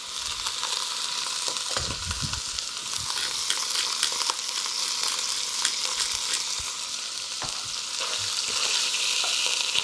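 Seasoned ground meat browning in a hot oiled pan for stuffed peppers, a constant close sizzle with occasional scraping stirs as a spatula breaks it up.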